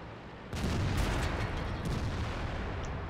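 Heavy tank cannon fire and rumbling explosions in World of Tanks, a loud booming burst starting abruptly after a short quiet lead-in and sustained as a dense, continuous roar.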